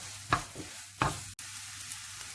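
Vegetable upma cooking in a pan, two distinct scraping strokes of a spoon stirring through the thick mixture, each followed by softer movement, over a faint low cooking hum.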